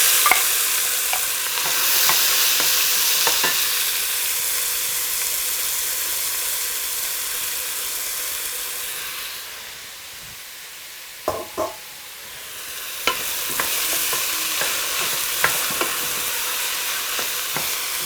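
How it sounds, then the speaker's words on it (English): Very finely minced onions sautéing in a pan, loud hissing sizzle with repeated scraping stirs, quieting briefly midway before the spatula strokes and frying noise build again. "I am going to add all the very finely minced onions together."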